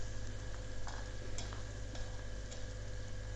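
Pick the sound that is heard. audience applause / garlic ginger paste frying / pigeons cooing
garlic ginger paste frying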